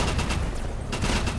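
Rapid gunfire from a battle royale video game, dense overlapping shots and bursts that sound like a close firefight, continuous and loud throughout the short stretch.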